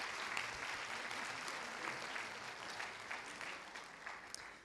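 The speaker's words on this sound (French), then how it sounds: "Je pense qu'on peut encore les applaudir bien fort." A conference audience in Hauts-de-France gives sustained applause, a continuous patter of clapping from many hands at a fairly even, moderate level.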